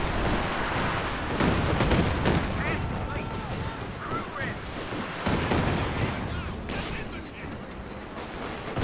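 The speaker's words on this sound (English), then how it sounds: "he's running right into that Katyusha barrage" Katyusha rocket barrage in the WWII strategy game Company of Heroes 2, La Gleize map 4v4 battle: dense, continuous rumbling blasts and crackling impacts fill the whole stretch, loud and overlapping with surges of explosive noise.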